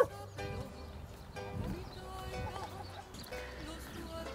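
Faint clip-clop of a horse's hooves on a stud farm, soft steps just after a halt, with quiet voices in the background.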